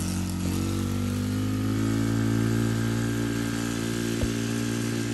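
A Can-Am DS90X automatic youth ATV runs close by. Its small engine keeps a continuous buzzing, rattly drone at a steady pace throughout, with one brief knock near the end.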